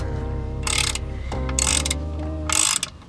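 A ratchet clicks through three quick bursts of loosening on a car's oil drain plug, close and crisp over a steady low hum in a driveway.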